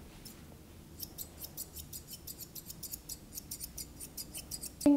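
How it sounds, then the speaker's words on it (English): P&W blacksmith curved grooming scissors snip repeatedly while trimming the head of a poodle, producing a quick, even run of crisp close-up clicks with quiet background. "Using my P&W blacksmith curves, I love these scissors"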